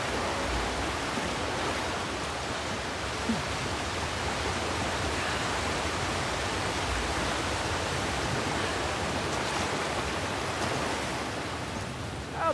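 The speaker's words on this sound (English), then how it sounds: "Hey, careful! Waterfall!" A waterfall in the video game Uncharted: The Lost Legacy gives a steady, loud, unbroken rush of water that fills the whole scene without pause.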